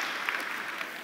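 Audience applause at a software presentation, a brief, fairly faint burst of many hands clapping at a steady level.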